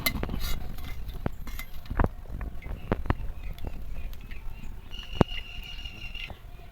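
Freshly fried crisp potato chips are set down and handled, giving light, brittle clinks and rustling crackles in scattered bursts close by, with faint kitchen background and no talking.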